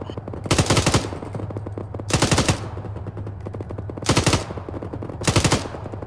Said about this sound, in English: engage tree line with coaxial